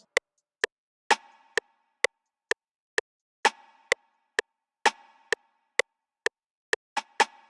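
A sparse, dry drum pattern of sharp clicking rim shots in a steady pulse, with occasional brighter, ringing hits accenting the beat.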